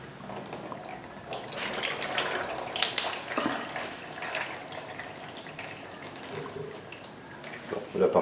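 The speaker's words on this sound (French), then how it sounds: "le 10 blocs de valve qu'on va essayer d'égoutter" Transmission fluid dripping and trickling from the removed valve body of a 2013 Nissan Sentra, a continuous liquid patter with scattered louder drips, close, under faint background noise.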